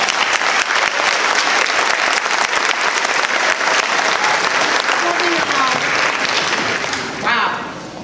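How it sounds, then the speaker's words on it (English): Audience applause fills a venue at a live evening event as a main speaker is welcomed, sustained loud clapping from a crowd for about seven seconds before tapering off at the end. "Please welcome her with a round of applause."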